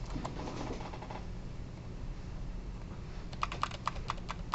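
Computer keyboard typing while entering a line of code, a short burst of soft keystrokes at the start and a quick clustered run of clicks near the end, faint and close with no talk.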